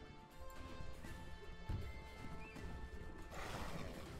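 Horse cavalry charges in the strategy video game Wargroove, with neighing and hoofbeats over a continuous musical game soundtrack and a sharp impact partway through.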